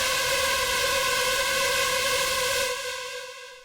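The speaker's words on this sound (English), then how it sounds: "The next is this Synth Shot" A bright, sustained synth shot from a sample pack for techno drops, holding a dense buzzy chord at full level for over two seconds before trailing off in a fading tail, with no voices.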